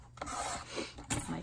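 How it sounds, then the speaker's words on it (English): Paper trimmer slicing card embellishments for a junk journal, a few short close scraping swipes of the blade across paper, quiet, with no talking. "So get these all cut nice and neat"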